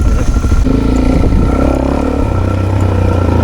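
A DRZ400 dirt bike rides a trail, its single-cylinder engine loud and close with a steady throbbing drone that shifts pitch as the throttle changes.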